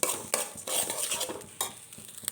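Sesame seeds fry in a pan while a utensil stirs them, producing a bright crackling sizzle broken by repeated scraping and clinking strokes, close and steady, with no one talking.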